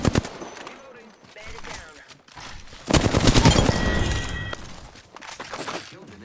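Rapid gunfire and shattering impacts in the Apex Legends video game, with bursts that swell into a loud sustained volley midway, while a player talks over it.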